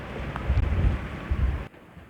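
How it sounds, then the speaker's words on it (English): Wind blowing at sea around Ardnamurchan Point while sailing in winds in the 20s, heard as low rumbling gusts buffeting the microphone for most of the moment before dropping away abruptly. "Well, the wind's still blowing in the 20s."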